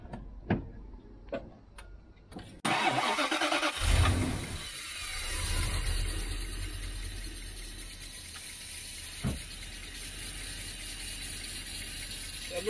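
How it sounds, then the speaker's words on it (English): A Bentley Turbo R engine cranks and fires up at close range, settling into a steady running rumble after a few sharp clicks. "So I'm just going to start the engine now."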